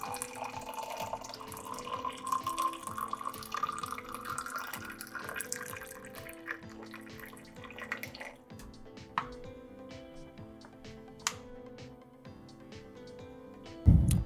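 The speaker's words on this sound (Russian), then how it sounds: "через отверстие сверху мы будем заливать кипяток" Boiling water pours steadily into an Aeropress coffee brewer, its pitch rising as it fills to the 200 ml mark, then the flow stops and a few soft clinks and drips follow.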